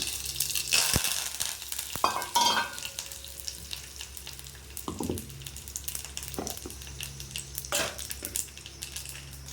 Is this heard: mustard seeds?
yes